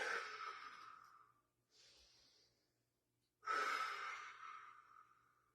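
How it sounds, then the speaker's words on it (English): Slow, deep breaths during a flexibility and balance exercise session: a long, airy exhale, a softer breath, then another full, strong exhale, all close and unaccompanied by talk. "Deep breaths."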